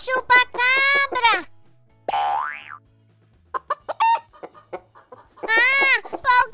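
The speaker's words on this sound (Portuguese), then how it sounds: "É só uma galinha!" A chicken gives loud, squawking clucks in bursts near the start and end, with a springy boing-like sweep between them and scattered short clucks in the middle.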